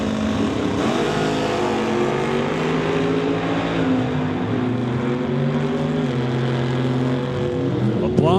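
Two 1966 Chevrolet Chevelle drag cars launch side by side at a drag strip in Mission, BC, a loud continuous engine roar with rising and shifting pitch bands, a commentator talking over it throughout.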